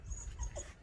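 Stray dog being towel-dried after a bath, giving a short burst of quiet panting breaths mixed with a faint whimper, close by.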